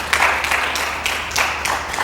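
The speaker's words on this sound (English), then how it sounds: "A round of applause for our guest." A studio audience on a health talk show applauds a guest with steady, moderately loud clapping that swells in a few waves over a couple of seconds.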